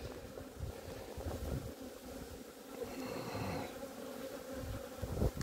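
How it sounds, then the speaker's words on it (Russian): Honeybee drones buzz faintly while emerging from a hive frame outdoors. A soft, steady hum comes through under gusting wind noise, with a slightly louder buzzing swell near the middle. "Трутни выходят."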